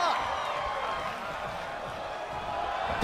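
A crowd roars and cheers steadily through a tag team match in a wrestling video game, a continuous wash of arena noise, while a commentator's voice talks over it.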